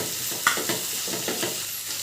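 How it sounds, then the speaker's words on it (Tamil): Tomato, onion, ginger, garlic, green chilli and mint leaves sauté in a pan, giving a steady close sizzle with a few soft stirring scrapes and a brief clink, no voices. "நல்லா வதக்கி விடுங்க."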